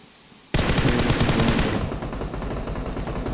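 Sustained automatic gunfire in the BGMI battle royale game, a dense rapid burst that starts abruptly after a short quiet moment and continues loudly throughout without speech.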